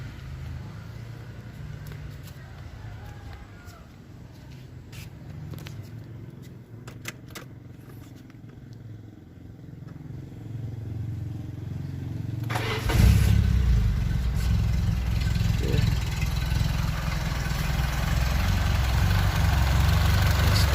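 A 1990 Peugeot 405 SR sedan's engine cranks and catches partway through, after a quiet stretch, then settles into a steady, rumbling idle close by.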